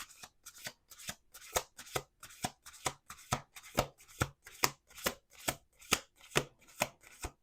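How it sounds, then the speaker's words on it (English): Tarot cards are shuffled by hand in a quick, regular series of crisp riffling bursts, about two per second, close and fairly soft with nothing else around them. "One more shuffle."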